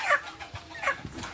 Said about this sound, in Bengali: মুরগিটা ভালো আছে।